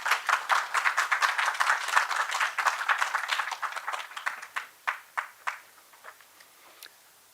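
Audience applause welcoming a guest speaker, the dean of the Culinary Institute of America, at a temple food symposium; brisk clapping from a modest crowd that thins into scattered, isolated claps before dying away.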